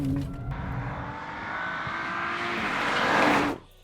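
A 2026 Audi RS5 drives hard. The engine note rises steadily as it accelerates, loud and close, then cuts off abruptly near the end. No one speaks.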